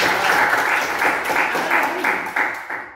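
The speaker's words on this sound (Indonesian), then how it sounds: "Tepuk tangan dong buat teman-teman" Sustained applause from a classroom of students clapping for their classmates during a mathematics lesson, steady and dense for the full stretch with rhythmic swells, close and fairly loud.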